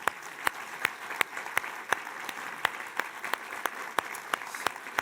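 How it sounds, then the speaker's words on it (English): An audience at an evening talk gives a round of applause after a presentation, steady clapping from a large crowd with sharp individual claps standing out, loud and continuous with no voices. "Another round of applause, please."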